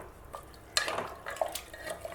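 A spoon stirs salted mutton in a pot, scraping and clattering against the metal in short irregular strokes, close and moderately loud. No voices are heard.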